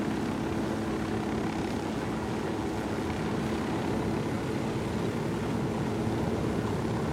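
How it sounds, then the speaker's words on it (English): A helicopter in the video game Ghost Recon Wildlands gives off a steady, droning rotor and engine roar. The roar holds at an even loudness for the whole stretch, with no talk over it. "we gotta steal the chopper, that's the thing"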